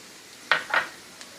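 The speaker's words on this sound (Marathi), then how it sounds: "आपल्याला ह्यामध्ये खोबरंसुद्धा परतून घ्यायचं आहे" Grated coconut being roasted in a pan for a spicy Maharashtrian katachi amti: two short scraping, clattering stirs of a spatula against the pan, close and moderately loud, then a faint tap, with no one talking.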